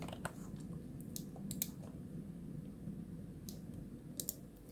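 Computer mouse clicks, several quick faint taps scattered over a quiet room hum, with no talking.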